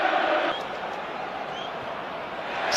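Home football crowd at St James's Park, Newcastle, during a match against Manchester United, a broad continuous roar of many distant voices swelling slightly at the end.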